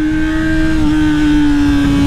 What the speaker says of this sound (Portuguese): Da hora é você escutar o ronco da moto.